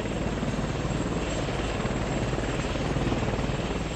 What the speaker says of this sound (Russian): Як-24 стал первым в Советском Союзе двухвинтовым вертолетом продольной схемы.